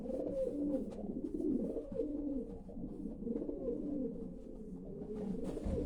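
Racing pigeons coo in a steady run of soft, throaty calls, close by and continuous, with no talking over them.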